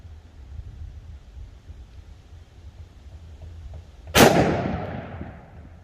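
A 10mm pistol loaded with Liberty Civil Defense 60-grain ammunition fires once after a few seconds of quiet outdoor background. The single sharp, loud report is followed by a short decaying echo.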